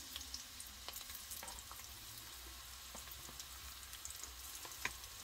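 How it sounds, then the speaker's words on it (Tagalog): Onions frying in a pan for a Filipino sautéed vegetable dish give a steady, soft crackling sizzle, fairly quiet and continuous, dotted with faint ticks and pops and no talking. "Uunahin na po natin lutuin yung ating sibuyas."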